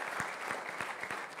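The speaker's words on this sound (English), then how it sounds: "Big round of applause to Sachin Bhatt." Applause from a lecture-hall audience, a steady patter of many hands clapping at moderate volume across the whole moment, with no voices above it.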